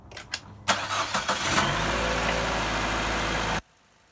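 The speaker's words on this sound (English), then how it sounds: "Yeah, just leave it in park. Let it idle. Let it warm up." A car engine cranks with a few short stutters, catches and settles into a steady idle while in park, close and even, then cuts off abruptly near the end.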